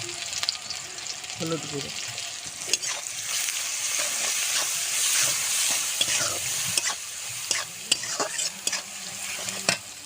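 Ridge gourd with chopped onion fries in a pan, sizzling steadily while a spatula stirs and scrapes in irregular clacks, and a voice speaks briefly over it.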